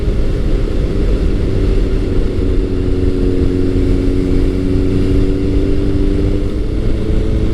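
A Kawasaki ZRX1100 motorcycle engine with a Two Brothers aftermarket exhaust idles close by with a loud, throaty exhaust, a steady deep rumble that keeps going without pause.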